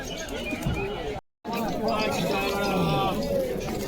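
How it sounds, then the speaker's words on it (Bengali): Pigeons at the Beldanga pigeon market coo and flutter close by under busy talk and crowd chatter, with a brief silent gap partway through. "শুরুতে এখানে কিছু কবুতর দেখায়"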